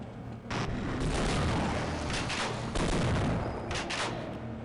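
Dense bursts of gunfire and explosive booms from the video game Half-Life, loud and continuous with rapid overlapping shots and no voices over them.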